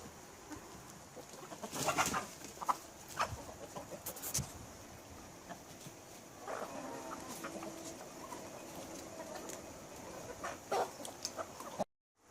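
Backyard chickens cluck on and off at a moderate distance, with a few sharper calls and scattered small knocks over a steady outdoor background.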